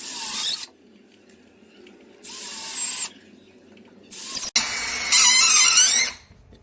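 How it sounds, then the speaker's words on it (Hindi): A cordless drill tightens screws in four separate bursts, each a loud, high, whining squeal of a second or so, with quiet pauses between them. "काफ़ी सारे स्क्रू कसे जा चुके हैं, मगर अभी भी इसकी जो बैटरी है वो डाउन नहीं हुई, ये ड्रिल जो है ऑटो स्टॉप नहीं हुई।"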